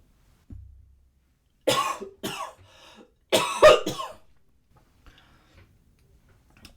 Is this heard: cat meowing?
no